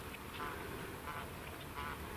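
Ducks quack faintly near a hunting decoy spread, a few short nasal calls in a quiet outdoor setting.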